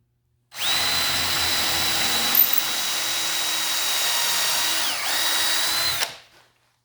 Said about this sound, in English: So grab the drill.